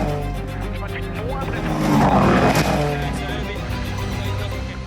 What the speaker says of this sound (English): That car is crabbing enormously for Gregoire Munson